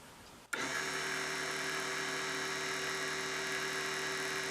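A mini wood bead lathe starts abruptly and then runs at its lowest voltage setting with a steady, even electric motor whine and hum, close and constant with no talking.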